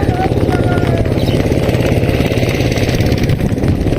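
Power tiller engine running and being cranked, a steady loud low chugging throughout with a voice speaking briefly over it.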